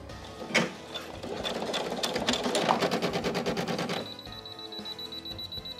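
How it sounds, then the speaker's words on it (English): A sewing machine top stitches a Halloween spiderweb dress, running in a fast, loud rhythmic clatter for about three seconds before stopping abruptly. "I'm just gonna top stitch it because I do not feel like taking this whole thing apart"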